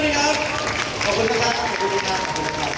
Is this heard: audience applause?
yes